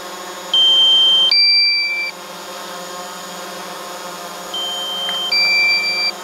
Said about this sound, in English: The low voltage alarm's going off on the Mavic.